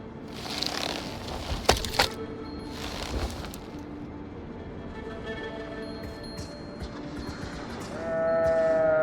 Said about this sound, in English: This wild sheep appears interested in nothing more than the grasses that grow upon this beach.